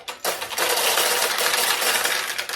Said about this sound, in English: you hear this clattering noise, it's simply the machine putting some more balls into the recycle tray